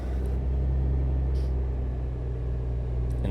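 A Kenworth W900 truck engine in American Truck Simulator drones in a loud, steady, low rumble that holds even throughout, with a couple of faint high hisses on top and no talk.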